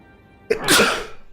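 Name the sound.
sneeze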